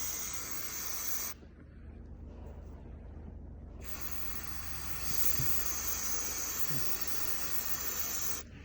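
Ether sprays from an aerosol can as an oil cleaner onto a planter marker, a long continuous hiss up close that cuts out briefly, then resumes and keeps going steadily.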